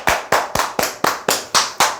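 Rhythmic group clapping from an audience at a Korean call-centre job training lecture, eight sharp, evenly spaced claps in unison, loud and close with no talking.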